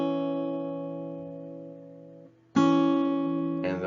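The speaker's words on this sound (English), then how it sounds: "Compare the major sixth and" Guitar playing a major sixth interval: a sustained two-note chord rings and slowly decays, then is struck again and rings clearly, close and alone with no talking.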